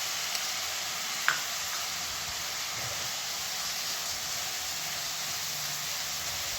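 Onion and prawns frying together in a pan, a faint steady hiss of sizzling with a single sharp tick of a utensil early on and occasional soft stirring.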